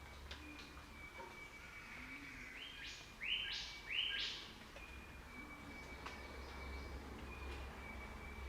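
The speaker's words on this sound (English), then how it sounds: "listen to the amazing call of the eastern whipbird" An eastern whipbird in Lamington National Park near Brisbane gives its sharp, whip-crack call, repeated a few times in quick succession over a soft bed of other early-morning birdsong.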